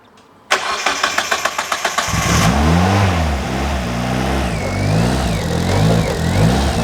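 A car engine cranks in a quick run of even, rhythmic starter pulses after a jump pack is connected, then catches and settles into a loud, steady running note that swells and dips with revs.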